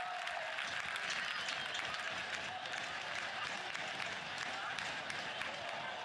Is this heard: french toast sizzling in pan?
no